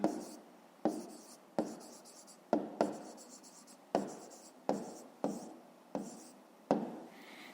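A pen scratches across paper in repeated short strokes during a fifth-grade math exercise, close and clear, each burst starting sharply and tailing off, with no talking.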